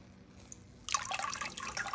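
Water drips and trickles off wet toilet paper lifted from a basin, quiet at first, then a sudden burst of close patter and splashing that keeps going.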